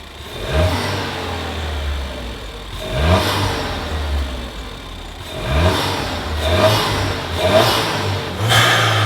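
Ford Fiesta ST with an overly loud rear exhaust, revved hard in four repeated bursts, each climbing and dropping back to a burbling idle, close and loud.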